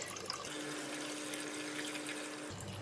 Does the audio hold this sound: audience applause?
no